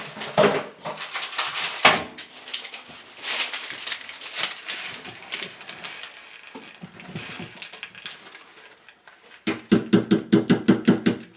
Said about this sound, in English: we're going to put it in our pan now and get it in the oven